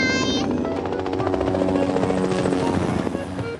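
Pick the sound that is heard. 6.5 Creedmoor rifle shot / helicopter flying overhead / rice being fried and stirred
helicopter flying overhead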